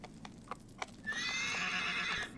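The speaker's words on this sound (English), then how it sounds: "All right, horse." In the video game Shadow of the Colossus, a horse whinnies loudly for over a second, preceded by a few hoof clops on hard ground; no talking.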